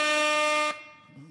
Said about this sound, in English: I have air horns and stuff I can do with it.